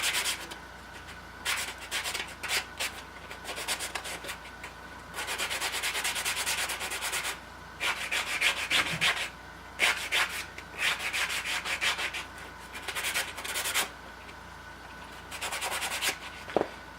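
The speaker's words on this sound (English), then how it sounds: "Just gonna take a sanding block and clean up the edges a little bit." A sanding block rasps back and forth across the edges of a wooden barn door in bursts of quick strokes, pausing briefly between passes, close and fairly quiet.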